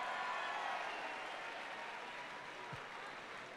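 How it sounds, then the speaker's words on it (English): Applause from the audience at a school fight night, a dense wash of clapping at moderate level that holds steady and slowly thins out, with no talk over it. "Give them a nice round of applause"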